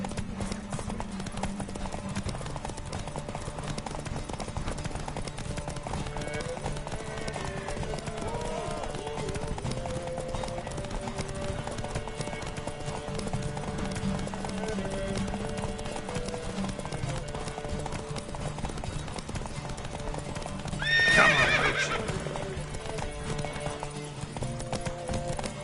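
Horses gallop through a race in The Witcher 3: Wild Hunt, a steady rolling clatter of hooves running under game music and chatter, with a brief louder burst of noise near the end.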